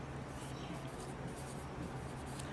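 A pen scratches steadily across paper while a geometry answer on lines and angles is written out, a soft continuous scribbling close to the microphone with no voice.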